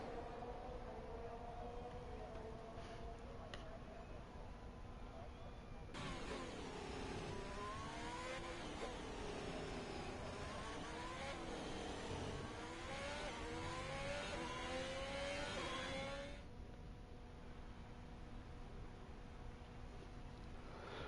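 A race car engine in a racing video game entering the pit lane after qualifying on the Baku circuit: a rising and falling whine swells in for about ten seconds, then drops back to a quieter steady drone.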